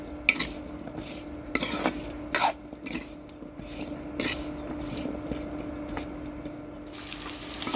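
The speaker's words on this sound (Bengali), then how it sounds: "আলু আবার নেড়ে দেবো আমি" Potatoes fry in a pan with turmeric and salt while a utensil stirs them, giving irregular sharp metallic clinks and scrapes over a soft, steady background sizzle.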